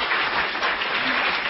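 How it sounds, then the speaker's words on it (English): A conference audience breaks into applause, dense and steady clapping from many hands filling the room throughout, loud and close with no talk over it. "I think we should give him a round of applause for building anything in 45 minutes"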